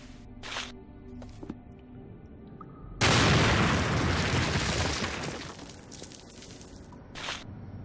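A bomb detonates in the game Sherlock Holmes: The Awakened with a sudden loud, broad blast that rumbles and slowly fades over a couple of seconds, framed by a few quieter scattered thuds before and after.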